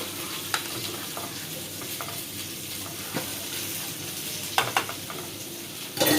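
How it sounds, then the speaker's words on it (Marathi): Fish frying in a pan of oil with kokum, turmeric and salt: a steady hiss of sizzling with a few scattered utensil clicks, close and continuous, no voices. "आपल्या एका साईडला मच्छी पण मस्तपैकी फ्राय झालेली आहे"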